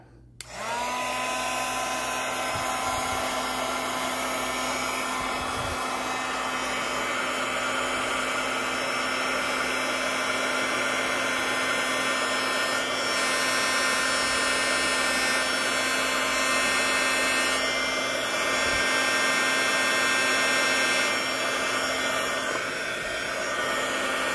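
Heat gun running continuously to melt embossing powder, switched on with a sudden start and then holding a loud, steady blowing whine with a high motor hum, close up and unbroken to the end.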